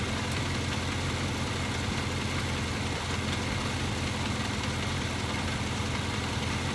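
A 1983 Kawasaki KZ750 Spectre motorcycle with four carburetors idles steadily during carb tuning, a constant low engine rumble held close and even throughout with no voices.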